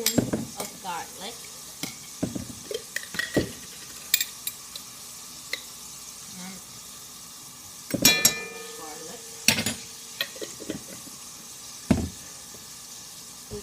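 Garlic for arroz con pollo sizzles softly in a pan beneath repeated sharp clinks and scrapes of a spoon against the metal, with brief louder knocks scattered through.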